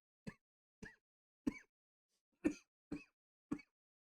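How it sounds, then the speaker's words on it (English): Six short, sharp coughs in an uneven series, close and fairly quiet, with a brief gap before the last three. "That's the first big cough fit I've had for a little while."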